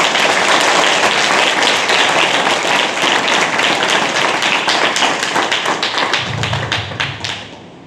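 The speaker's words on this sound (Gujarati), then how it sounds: "એટલે શિક્ષકો માટે એક તાળી થઈ જાય." A hall audience applauds teachers with a dense burst of many hands clapping, loud and close, holding steady before thinning out and fading toward the end.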